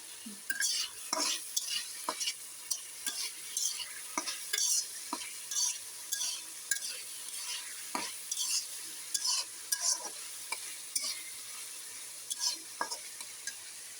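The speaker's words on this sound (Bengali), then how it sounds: "যাতে আলু আর চিংড়ি মাছগুলো একসাথে তেলের মধ্যে ভাজা হয়" Potatoes and shrimp fry together in hot oil in a pan, a soft steady sizzle broken by frequent scraping and clinking as a utensil stirs them, close and moderately quiet.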